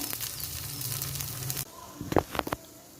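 A potato and vegetable snack sizzling in a pan over a low gas flame, giving a soft continuous hiss for about a second and a half before it cuts out and gives way to a few light clatters.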